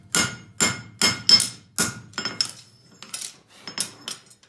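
A hammer strikes a bob punch against a concave front horseshoe on an anvil: about a dozen sharp, ringing metallic blows in an uneven rhythm, loud and close, with no talk.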